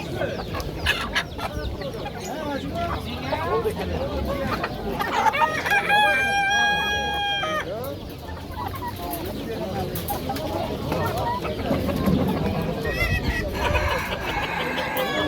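Rooster crowing at a bird market, one loud drawn-out crow near the middle among other clucking fowl, with people talking and bargaining all around.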